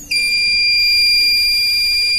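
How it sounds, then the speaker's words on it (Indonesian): Digital multimeter set to its continuity buzzer setting with the probes touching, sounding a loud, unbroken high-pitched electronic tone that starts abruptly and holds steady. "Setelah itu kita setting dulu multitester ke buzzer."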